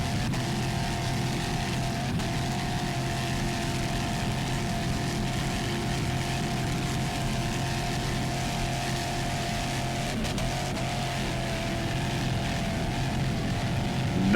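Ray Delaney throttling a Super V Light Twin racing boat engine, a steady droning motor roar held at a fairly constant level with slight pitch shifts, heard alone without voices.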